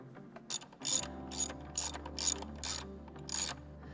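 A ratchet loosens an intercooler mounting bolt on a 2022 Subaru WRX, giving about seven sharp, evenly spaced bursts of metallic clicking, close and loud.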